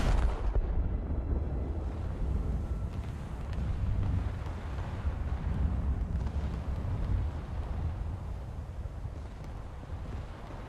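A British battleship's heavy guns fire in a naval combat game, a deep booming blast rolling into a long, loud low rumble that lingers and slowly fades.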